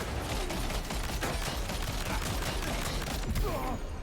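Gunfire in the video game Death Stranding 2 on the Beach, a dense rattle of repeated shots running through the whole stretch over a busy game soundscape, with a brief voice near the end.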